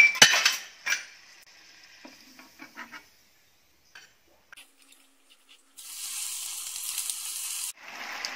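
Cauliflower florets frying in hot oil on a low-medium flame: scattered utensil clinks and light taps, then a bright, steady hiss of oil for a couple of seconds, with no talking.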